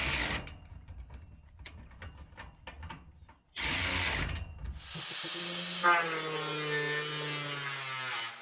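A ratchet tightening metal on a greenhouse frame, a rapid run of close, dry clicks, then a louder burst of mechanical noise and a long ringing metallic whine.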